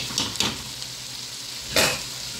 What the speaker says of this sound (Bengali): পোলার চালটা আমি ভালো করে একটু এই চানার সাথে ভালো করে একটু কষিয়ে নিব।